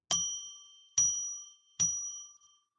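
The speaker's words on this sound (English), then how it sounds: "I'm going to ring a bell 3 times now and declare a sacred space." A bell struck three times at steady intervals of under a second, each clear ringing tone sustaining and fading before the next, loud and close in an otherwise quiet room.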